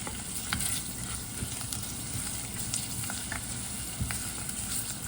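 Garlic and ginger sizzle and crackle in hot oil, with scattered spatters and stirring scrapes over a steady frying hiss, fairly quiet and close, no talking.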